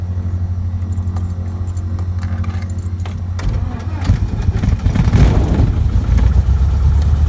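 A small aircraft engine cranks with a little throttle, a steady mechanical hum and keylike jangle giving way to a rougher, louder engine roar as it catches and runs close by.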